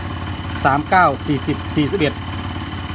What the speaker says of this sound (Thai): อันนี้แค่รอบเดินเบานะเนี่ย